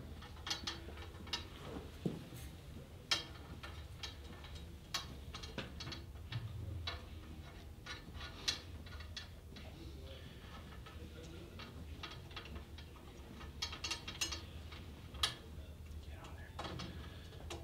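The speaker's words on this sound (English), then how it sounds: "I'm just gonna put all these little tension rods in the lugs here." Metal tension rods being threaded into the lugs of a drum fitted with a new head, giving soft repeated ratcheting clicks and ticks at close range over a steady low hum, with sharper taps scattered throughout.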